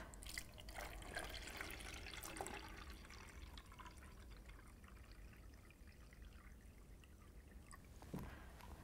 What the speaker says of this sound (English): all you need to do is to fill up your jar with water